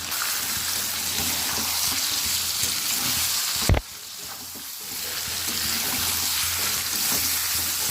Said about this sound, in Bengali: কিছুক্ষণ ভেজে নেওয়ার পর আমি এখন একটু জিরে ধনে আর লঙ্কা গুঁড়ো দিয়ে দেবো।